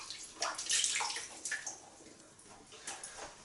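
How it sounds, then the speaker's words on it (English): Water splashes and trickles close by as hands scoop it and wet a face before shaving, irregular soft splashes over a few seconds with no talking. "Just going to wet face."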